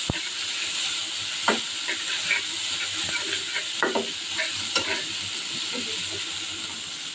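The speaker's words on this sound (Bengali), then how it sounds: "এইসব ইলিশ মাছ ভাজা নিয়ে নিয়েছি।" Hilsa fish frying in a pan gives a steady sizzling hiss, broken by several sharper crackles and spatters from the hot oil, with no talk over it.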